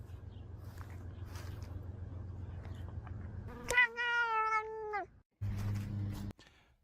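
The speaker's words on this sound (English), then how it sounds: "Those are very nice kitties." A cat lets out one loud, drawn-out meow close by, over a low steady background hum, with a faint quieter sound just before it.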